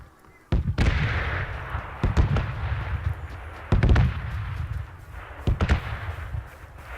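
Several loud video game gunshots ring out at irregular intervals, each with a booming low thud and a ringing tail over a steady background.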